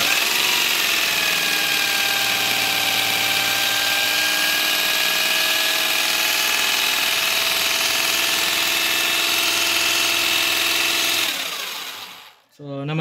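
An Isuzu 4JA1 diesel engine in a Crosswind running after alternator repair, a loud close steady idle hum with a high whine that drops away abruptly as the engine shuts off near the end.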